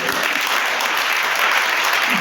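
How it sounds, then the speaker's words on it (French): A church congregation claps in a steady, dense burst of applause that fills the space evenly for a couple of seconds. "Acclame Jésus."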